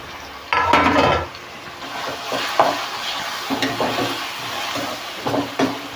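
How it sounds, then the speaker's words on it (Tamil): Onion, green chili and garlic sauté in a hot pan for a fish curry, sizzling steadily while a utensil scrapes and stirs in repeated bursts, close and moderately loud, with no talking. "வெங்காயம், பச்சை மிளகாய், அப்புறம் பூண்டு போட்டு நல்லா வதக்கிடுங்க"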